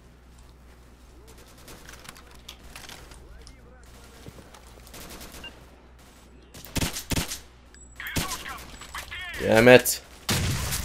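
Gunfire in the shooter game S.T.A.L.K.E.R. Misery: scattered sharp shots early, then louder bursts of rapid fire near the end, with a player muttering over the action.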